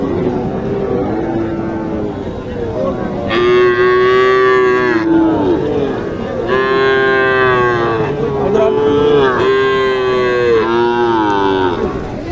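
A cow at the Mataji cattle market in Naogaon bellows three long, loud moos close by. The calls are spaced a few seconds apart over a continuous market rumble.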